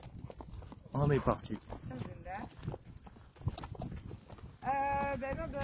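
Horse hooves clop at a steady walking pace during a horseback ride in Morocco, with several people talking over the footfalls throughout.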